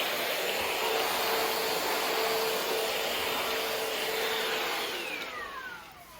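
A Shark VacMop cordless vacuum mop runs with a steady, close, loud whirring hiss that holds level and then eases down near the end.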